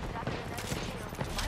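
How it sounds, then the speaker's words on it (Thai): Rapid bursts of gunfire in a shooting video game, a dense fusillade of close, loud shots packed into a second and a half, with excited voices talking over it. "ยิงก็ยิงไม่โดน"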